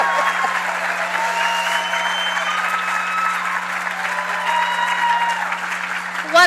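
School graduation audience applauding and cheering, a sustained dense roar of clapping with whoops and shouts throughout, ending in a louder burst.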